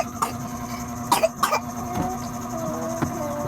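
A few close coughs from a person with flu, two in quick succession, over a low steady hum in the background.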